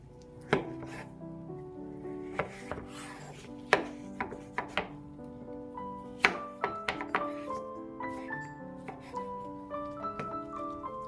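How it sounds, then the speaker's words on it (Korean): Kabocha squash, peeled, being cut into rough chunks on a cutting board, with sharp knife thunks landing in irregular bursts, some singly and some in quick pairs. Light kitchen clatter sits under the strokes. "껍질을 제거한 단호박은 익기 쉽도록 듬성듬성 썰어서 준비를 해둘게요."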